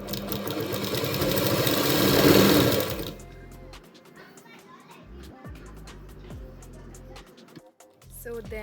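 A motorised sewing machine stitches patchwork quilt triangles together, its loud, dense whirring run lasting a few seconds before stopping. A low hum and scattered clicks follow, with children's voices in the background.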